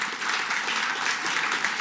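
Loud, dense applause from a studio audience of students welcoming film stars Shahid Kapoor and Pooja Hegde at a Hindi news event, a steady continuous roar of clapping with no break.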